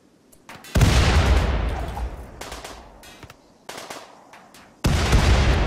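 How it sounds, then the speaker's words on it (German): Grenade blasts in RimWorld: two heavy booming explosions with long rumbling decay, split by crackling bursts and smaller pops, loud and close with no talk. "Granaten sind auch überhaupt nicht laut,"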